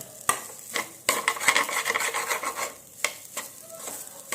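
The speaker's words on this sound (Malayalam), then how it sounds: "ഇതാ അരിയെ ഒന്ന് വറുത്ത പോലെയാക്കി എടുക്കാൻ" Close, steady scraping and stirring of rice grains frying in oil in a hot pan, with a light sizzle and several sharp spoon strokes against the metal.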